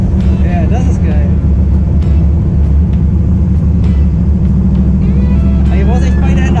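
A Chevy Nova V8 muscle car engine rumbles loudly and steadily close by, a deep throbbing idle running throughout while people talk over it.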